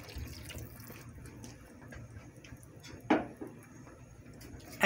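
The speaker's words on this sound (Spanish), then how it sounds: "Y ponemos el vasito de agua." A small glass of water is poured into a cooking pot of pickled jalapeño chiles with vinegar, giving a faint, soft splashing trickle with a couple of brief sharper splashes, heard alone.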